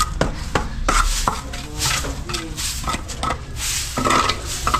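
Leftover mortar mix being scraped and packed around a floor drain, close by: a busy run of sharp tool knocks and scrapes on hard surfaces, with a few short bursts of gritty scraping between the taps.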